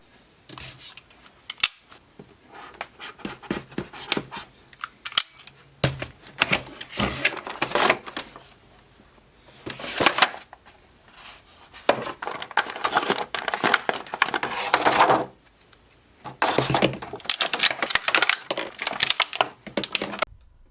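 A Marvel Legends Venom action figure being unpacked from plastic packaging, with irregular bursts of crinkling, snipping and clicking plastic close by, separated by short pauses.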